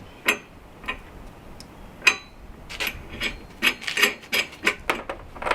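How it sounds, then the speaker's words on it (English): Half-inch by 20 nuts being fastened onto a spare tire holder on a Dodge Ram 3500 van, with sharp metallic ticks and ratcheting clicks that start sparse and then come quickly in bursts, close by and with no talk. "I'm just going to bolt these on and keep them on there"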